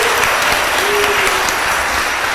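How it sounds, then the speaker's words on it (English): A crowd at an MLK Day children's march for peace claps for the governor, a brief steady wash of applause held at an even level throughout. "Can we give him another round of applause?"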